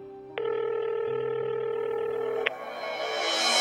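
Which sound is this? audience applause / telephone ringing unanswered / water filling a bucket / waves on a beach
telephone ringing unanswered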